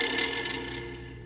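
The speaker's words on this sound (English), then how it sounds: "I'm going to thread it through the strings so it rubs against the body" Brief dry scraping and rasping from a kebab stick threaded through ukulele strings and rubbing against the wooden body. The percussive rubbing is fairly quiet and close, with a rough, gritty texture and no voices.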